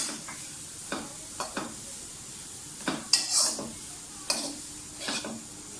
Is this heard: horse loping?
no